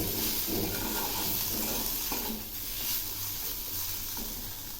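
Shrimp being stirred into mashed potatoes in a hot pan for a spicy shrimp filling, a soft continuous sizzle with faint, occasional scrapes of stirring throughout.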